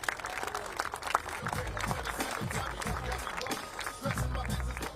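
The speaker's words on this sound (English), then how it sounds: "Please give a round of applause." A crowd claps and applauds at a moderate distance at an outdoor street-naming ceremony, a scattered patter of hands with voices and footsteps mixed in.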